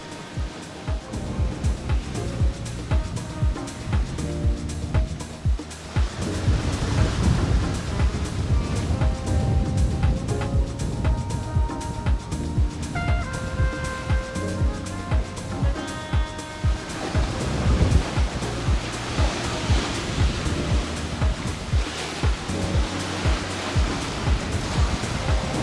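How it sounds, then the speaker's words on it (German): Heavy seas rush and crash around a sailing yacht making 7 to 8 knots in strong wind, a continuous loud roar of wind and breaking waves with surging swells and hull wash. "In diesem starken Wind mit den zum Teil wirklich hohen Wellen"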